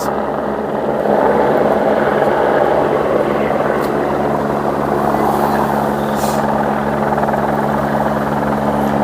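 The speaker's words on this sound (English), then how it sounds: "you can see chopper behind us and helicopters" Loud, steady engine and rotor drone of a nearby helicopter at a helipad, a continuous low rumble with a buzzing tone that persists throughout without any talking.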